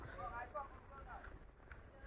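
Horse hooves clip-clopping at a film set location, a steady rhythm of hoof strikes under ongoing talk and background noise.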